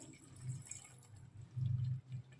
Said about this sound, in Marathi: आता आपण वाटण केलेल्या मिक्सरच्या भांड्यात मी पाणी घातलंय,